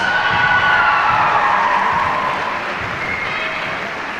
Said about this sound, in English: Eagle fans, a big round of applause for your 2017 girls basketball seniors